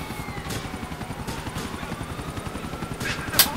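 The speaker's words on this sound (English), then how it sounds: "got a helicopter on me, though." A helicopter in the video game GTA 4 drones steadily with a pulsing rotor chop throughout, loud and continuous, with brief bursts of gunfire-like cracks near the end.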